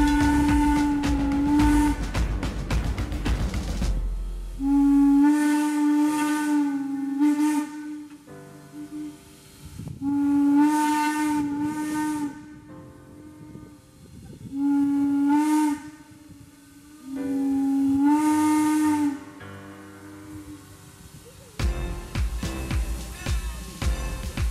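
A steam locomotive whistle sounds repeatedly in long, loud, pitched blasts with hissing steam between them, fairly close and without talk.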